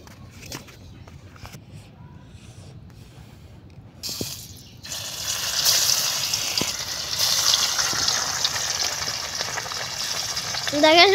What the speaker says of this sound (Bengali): মাছ ভাজা হয়ে যাইতেছে।